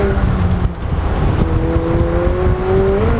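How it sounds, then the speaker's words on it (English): An 800 HP McLaren Elva, a windshield-less road-legal Can-Am car, spins its wheels under hard acceleration, its engine note rising steadily with a whirring, climbing pitch, close and loud with wind rush and no talk. "That was wheel spin."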